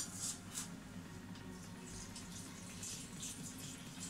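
Water measured out to 250 grams and poured into a Thermomix bowl while cooking chicken with honey, lime and mango chutney, a steady close hissing stream with no pauses throughout.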